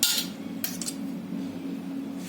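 Metal spoon clinks sharply against a dish while mixing raw potato with salt and peanut powder for fasting thalipeeth, a couple of quick close scrapes over a quiet kitchen hum.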